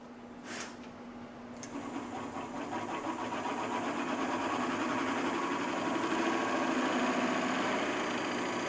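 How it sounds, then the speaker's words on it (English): A lathe starts up and settles into a steady mechanical drone with a high whine, drilling into an ash wood tool handle at slow speed, running continuously and fairly close, with no talking. "we're going to turn the speed down and then start the drilling."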